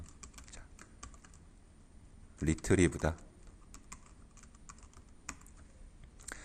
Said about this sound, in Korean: 타이핑을 직접 해보겠습니다